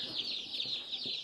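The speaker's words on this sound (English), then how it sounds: "Well, our meat birds showed up." Cornish cross meat bird chicks just delivered from the hatchery, a dense chorus of high, continuous peeping cheeps filling the whole moment, close and steady with faint low thumps beneath.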